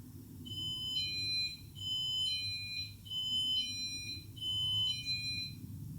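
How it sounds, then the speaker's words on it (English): An electronic alarm beeps in repeated bursts of high, piercing tones, four cycles in a row, fairly loud against a quiet room. "That's the doorbell alarm going off"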